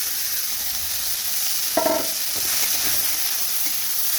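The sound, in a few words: frying kalmi greens in a wok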